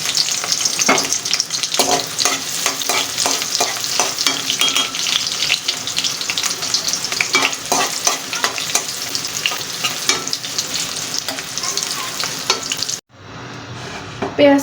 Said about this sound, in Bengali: কড়াইতে সরিষার তেল দিয়ে দিয়েছি, আর এখন পেঁয়াজ, রসুন আর কাঁচামরিচটা দিয়ে দিব